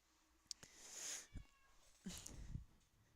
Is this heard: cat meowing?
yes